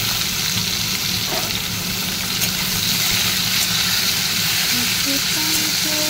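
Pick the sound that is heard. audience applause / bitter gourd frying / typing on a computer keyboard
bitter gourd frying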